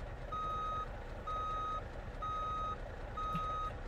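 Truck reversing alarm in the BeamNG.drive driving game, four evenly spaced high electronic beeps over a low idling engine rumble, with no voices.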